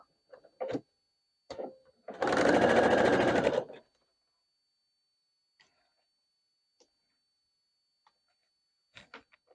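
A sewing machine stitches quilt block strips for a barn star sampler in one quiet burst of rapid stitching lasting under two seconds, with scattered soft clicks and taps around it.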